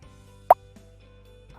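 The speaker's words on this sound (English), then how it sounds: "the click sound effect plays" A single short, soft click plays as a button sound effect in a Unity game, one quick pop over a quiet background hum.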